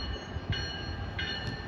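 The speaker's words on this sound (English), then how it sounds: "Electric Blue Island train number 233 to Blue Island is now arriving." Metra Electric train arriving at 95th Street station in Chicago, a steady rumbling wash of rail noise with faint high squeals, continuous and fairly close, with no voices.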